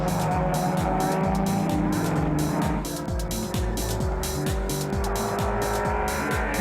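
Racing engines of a classic Mini and an MGB roar close together on a circuit, with repeated rising and falling gear-change sweeps and tyre squeal as the two cars battle wheel to wheel, loud and continuous.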